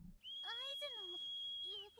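Shrill, continuous whistling rings out at night as a signal from a tea room near a retiree estate, holding one level pitch while a person talks beneath it.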